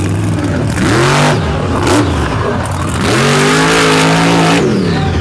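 A 14,000-plus-pound monster truck at a Fowlerville show revs hard in loud, close surges, its engine climbing, dropping and climbing again over a wide roaring wash.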